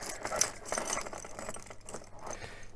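Metal keys jangle and clink on a small keyring while someone fiddles to attach another item to it, producing a busy run of close, light rattles with a sharper clink near the start.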